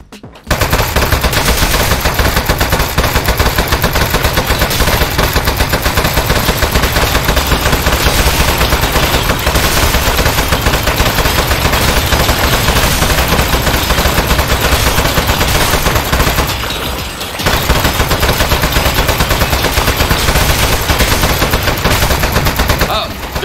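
Turret gunfire in the video game Aperture Desk Job rattles as continuous rapid machine-gun fire, loud and sustained for over twenty seconds with one brief pause, playing alone without talk.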